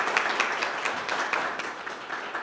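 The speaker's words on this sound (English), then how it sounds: "let's give her a round of applause" An audience bursts into steady applause at a community event opening, many hands clapping in a dense, continuous patter of moderate loudness with no pause.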